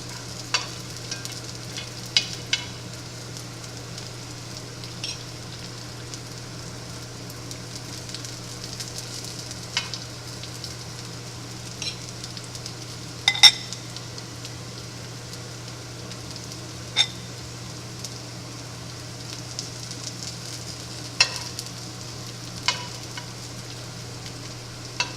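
Hash brown potatoes made from rehydrated spuds fry slowly in a pan over lowered heat. A steady, soft sizzle carries through with scattered small pops and crackles and no talking.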